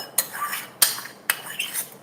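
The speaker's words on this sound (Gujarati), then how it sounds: "હવે આ લસણની પેસ્ટ ગરમ હોવાથી શરૂઆતમાં આપણે આને ચમચાની મદદથી મિક્સ કરીશું" A metal spoon stirs hot garlic paste into puffed rice for lasaniya sev mamra, giving four sharp scraping clinks spaced about half a second apart, close and alone.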